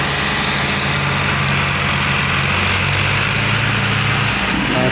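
Small Ghazi brand tractor engine running steadily and loudly close by, a continuous low rumbling drone with no pauses.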